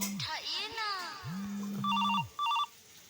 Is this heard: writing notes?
no